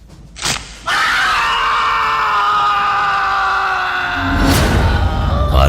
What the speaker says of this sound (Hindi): एक भयानक चीख गूंज पड़ी उस पूरे घर में